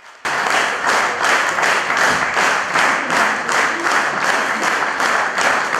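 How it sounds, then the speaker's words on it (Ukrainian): A concert audience in a hall applauding after a performance, with dense, loud, sustained clapping from many hands at an even rhythm, rising abruptly and continuing without pause. "За виступ глядачі дарували виконавці квіти та бурхливі овації."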